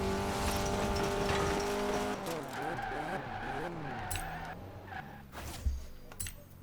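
A car drives in Forza Horizon 4 with a steady engine drone and shifting revs, tyres squealing and skidding as it goes, while someone talks over it.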